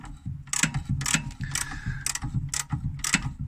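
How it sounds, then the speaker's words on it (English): A hand ratchet with a socket spins out a rear brake bolt on a Skoda Octavia vRS Mk3, producing rapid, close clicking bursts in a steady back-and-forth rhythm, loud and alone. "ratchet socket to get the bolt right out."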